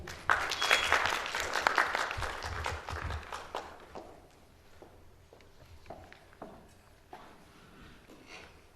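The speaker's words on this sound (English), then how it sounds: "give a round of applause and welcome her on the stage, Dr. Augustina Benramini." An audience at a medical lecture event claps to welcome a speaker to the stage, fairly loud at first, then thinning to scattered, fading claps and light shuffling over the last few seconds.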